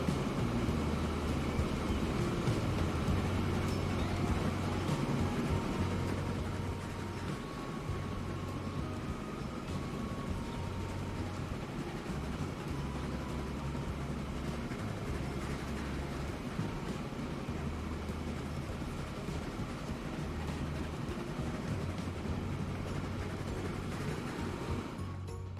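Train running in the Transport Fever 2 video game: a steady low rumble with a rhythmic pulsing hum and a broad wash of background ambience, continuous and fairly even throughout, with no talk.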